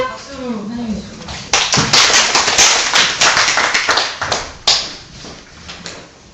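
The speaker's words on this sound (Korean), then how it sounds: "박수로 환영해 주시고." An audience at a conference presentation claps to welcome the next speaker, a burst of dense, loud applause that starts after a moment of talk and tapers off with scattered claps.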